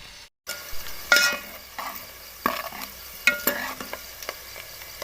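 Chopped onion sizzles softly in ghee in a pan, with a spoon now and then stirring and scraping in quick, close bursts over a low, steady frying hiss.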